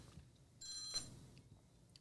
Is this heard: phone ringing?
yes